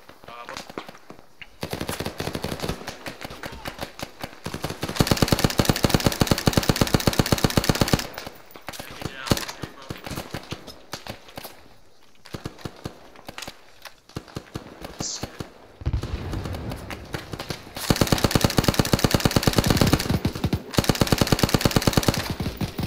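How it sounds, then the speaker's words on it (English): Sustained bursts of automatic machine gun fire in a first-person shooter game, loud and close, coming in long rattling volleys separated by quieter stretches with scattered single shots and voices talking over the action. "Oh shit, they have a machine gun."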